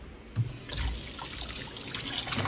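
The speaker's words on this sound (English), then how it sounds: "Rinse off." Water runs from a kitchen tap as something is rinsed off under the stream, a steady close splashing trickle with a brief louder splash near the start.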